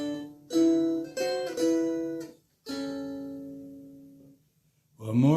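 A string instrument plays a short bluesy, slightly dissonant phrase in several plucked bursts, one note ringing out and decaying, then a final attack at the end.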